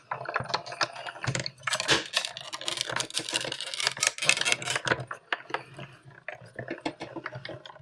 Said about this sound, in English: So that's making all the right noises as it runs through the die machine.